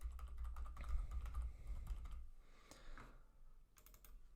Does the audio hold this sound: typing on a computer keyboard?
yes